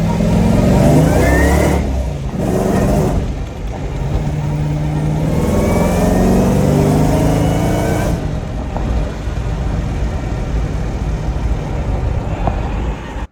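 A 5.3 LS engine fitted with an LSA supercharger roars loud and close on a full-speed pull, holding a sustained high rev before easing off into a lower, rougher running note.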